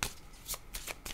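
Tarot cards shuffled by hand to draw a single card, giving a few short papery riffles and slaps, close and fairly quiet, with no talking.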